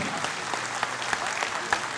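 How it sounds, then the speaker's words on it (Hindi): A crowd gives a standing ovation at a Memon community gathering, with dense, steady applause from many hands that fills the whole short stretch, a few sharper claps standing out. "एक बार जोरदार खड़े रहकर तालियां बजाइए। Please give a standing ovation."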